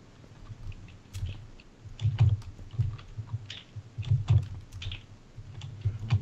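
Computer keyboard typed rapidly during Minecraft parkour play, bursts of clacking key presses in an irregular rhythm, close and fairly loud, with no talking.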